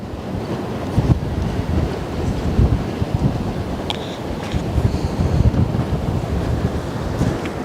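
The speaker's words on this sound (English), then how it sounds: "Wind is picking up again." Strong wind blusters across a microphone at the Westerschelde shore in the Netherlands, a loud continuous rumble with gusting surges and faint surf beneath, no talking.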